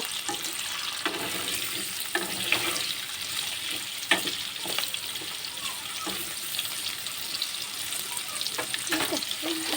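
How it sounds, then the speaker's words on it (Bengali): Potatoes fry in oil left over from frying paneer, a faint continuous sizzle with occasional light stirring clicks and scrapes, heard up close but quiet. "পনির ভাজা তেলের মধ্যে আলুটাকে দিয়ে দেবো আলুটা একটু ভেজে নেব"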